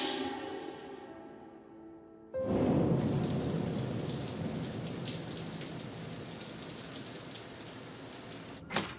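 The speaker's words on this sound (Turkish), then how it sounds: "Yağmur. Yağmuru düşün." Steady heavy rain pours down and hisses loudly after a brief quieter opening, continuing as a dense, even wash of falling drops until a short break near the end.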